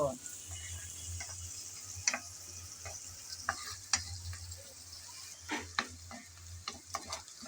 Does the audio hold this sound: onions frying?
yes